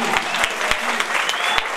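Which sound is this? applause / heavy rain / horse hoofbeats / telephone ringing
applause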